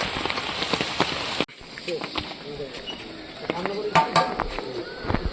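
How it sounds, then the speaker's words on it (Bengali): Steady patter of rain striking a fish pond, with a sharp drop in level partway through and scattered drips and splashes standing out afterward. "এখন বৃষ্টি চলে এসছে আর দেখতে কি সুন্দর লাগছে দেখুন জলের উপরে মানে বৃষ্টি পড়ছে"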